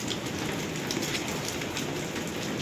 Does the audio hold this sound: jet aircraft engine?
no